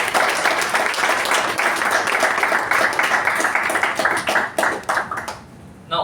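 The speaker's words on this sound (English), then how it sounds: "the only way, as Toastmasters, we know to show appreciation is with a hearty round of applause" A hearty round of applause fills a Toastmasters meeting room, loud, dense clapping from many hands that holds steady before thinning and tapering off at the end.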